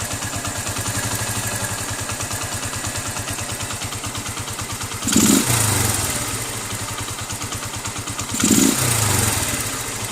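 A motorcycle engine fitted with a Nibbi 28mm carburetor idles steadily and close by, its rhythmic putter broken by two short throttle blips that rise and settle back to idle.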